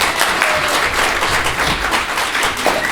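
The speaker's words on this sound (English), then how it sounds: "let's give one last round of applause to all of our student presenters" An audience at a youth entrepreneurship competition applauds student presenters, a dense, steady wash of many hands clapping at close range, sustained throughout with no break.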